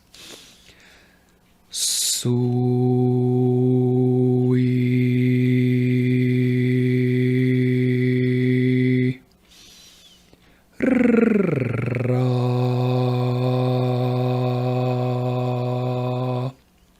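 A voice chants the mantra Suira in two long, sustained tones, each held for several seconds with a brief pause between.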